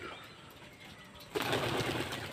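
Domestic pigeons take off near a house. A sudden, close burst of flapping wings breaks a quiet stretch and carries on as a rustling flutter.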